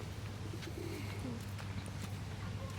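Domestic pigeons give soft, low cooing, faint and somewhat distant, over a steady low background hum.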